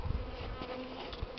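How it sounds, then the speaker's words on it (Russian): Honeybees buzz around the roof of a hive in early spring, a close, fairly quiet insect drone with wavering pitch that continues throughout, with no voices. "Много пчел на снегу лежит, пропадая."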